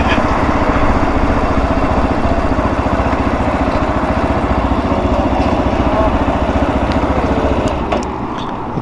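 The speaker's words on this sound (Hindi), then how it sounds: "फाइनली अपना RX 3 आ गया है और एक राइड पे निकले हैं।" A Royal Enfield-style RX3 motorcycle engine runs continuously on a ride, a loud, steady, rapid low-pitched thrum with a slight drop in level near the end.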